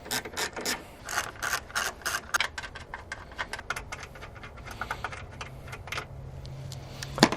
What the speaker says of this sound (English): The first thing we're going to do is remove two 10mm bolts up top.